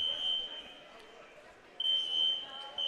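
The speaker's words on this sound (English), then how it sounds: "I wonder, for our listeners, if this beeping sound is coming through the headset." A high, steady electronic beep sounds in long tones at a Lincoln versus Smithton basketball game, cutting out for a stretch and then returning, over a faint hum.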